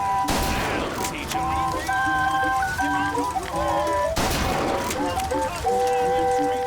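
In the video game BioShock Infinite, two heavy gunshot bursts hit enemies, followed by ringing tonal game sounds, with talk over them.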